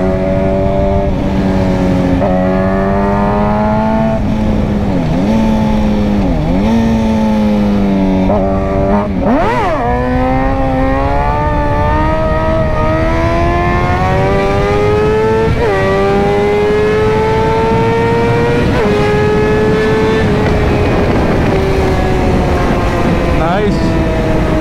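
A Suzuki GSX-R motorbike engine revs and shifts through rising and falling pitches while riding, loud and close, continuous for the whole stretch.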